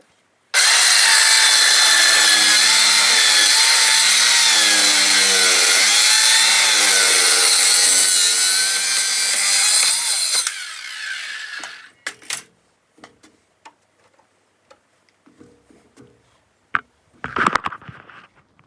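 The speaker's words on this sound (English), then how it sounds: "So, I get the grinder." An angle grinder cuts into a metal plate with a loud, continuous high-pitched whine that wavers as the disc bites, running about ten seconds before cutting off and leaving scattered clanks and knocks of handling.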